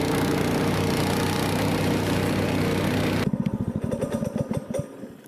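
A motorized snow dog, a small tracked snow tractor, runs with a steady loud engine drone on snow, then cuts to an uneven, pulsing near engine chug as it moves off.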